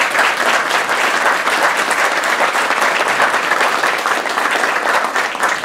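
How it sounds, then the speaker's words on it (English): Loud, dense audience applause at a press conference held at a college, steady continuous clapping from a large crowd throughout, with no voices audible over it. "Let's give them another round of applause."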